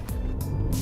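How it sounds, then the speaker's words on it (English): A 2018 Audi A8 accelerating hard from a standstill toward 100, its engine a steady, loud low roar heard from inside the cabin for a brief moment, with no talking. "Now let's try 0 to 100, because I'm very curious how fast this car gets to 100"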